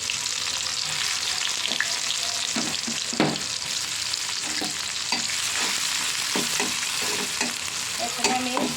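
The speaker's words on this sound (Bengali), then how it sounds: "এখন আমি চুলায় কড়াই বসেছি, ওখানে তেল দিয়ে দিচ্ছি। এখন ওখানে পেঁয়াজ ছেড়ে দেবো।" Onions sizzle in hot oil in a wok, a steady crackling fry broken by repeated scraping stirs of a spatula against the pan, close and without talk.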